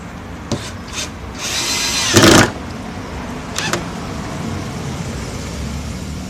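A cordless power driver whirs in short bursts, driving screws into a wooden crate: a brief blip, then a longer rising spin ending in a louder grinding burst, followed by another quick tap, close up.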